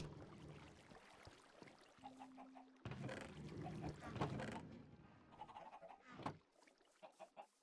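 Chickens in a Minecraft world give short, soft clucks in small clusters, moderately close over a low game-ambience background, with brief gaps of silence in between.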